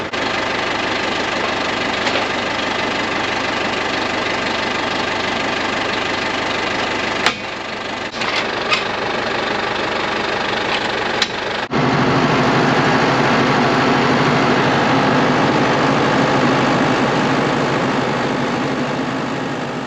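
A farm tractor engine runs steadily at a loud, close, even drone while a bale spear pushes hay bales along the edge of a field, with a few brief clunks and a shift to a heavier engine tone partway through.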